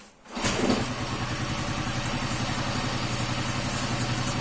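A rebuilt Honda CG motorcycle engine catches after a short quiet start and settles into a steady, loud, even idle with no throttle, its rhythmic thumping continuing without talk.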